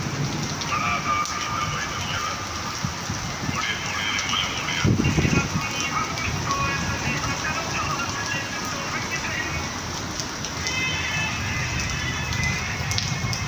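Rain falling in Medina, a steady broad hiss running throughout with a brief louder burst midway, while voices talk faintly beneath it.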